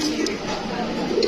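Pigeons coo softly in a crowded pigeon loft, low murmuring calls repeating under steady background noise with a voice faintly present.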